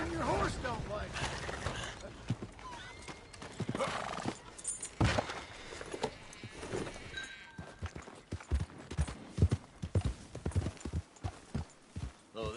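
Horse hooves clip-clopping with a whinny in Red Dead Redemption 2, close and fairly loud, the hoofbeats growing sharper and more rhythmic in the second half amid game ambience.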